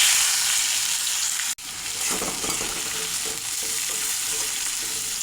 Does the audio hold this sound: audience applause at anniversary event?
no